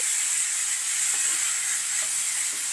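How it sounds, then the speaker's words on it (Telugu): Bobbarlu (cowpeas) fry over low heat with a steady, even hiss and sizzle that carries on without a break, with only faint soft clicks underneath. "బాగా స్లోలో పెట్టి ఒక నిమిషం బాగా ఫ్రై అవనిద్దామండి"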